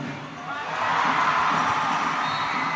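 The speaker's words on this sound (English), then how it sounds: "you can hear the crowd going wild" At a basketball game, a large crowd swells into loud cheering and whooping right after a made three-pointer, the roar rising within a second and holding steady.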